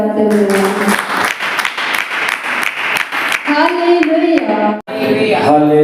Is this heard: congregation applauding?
yes